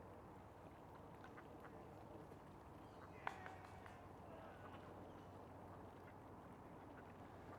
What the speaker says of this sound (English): Just duck noises.